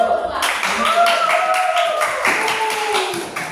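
A group of schoolchildren in a classroom clap their hands together after an art presentation, a quick, steady patter of claps close by, with voices talking over it throughout.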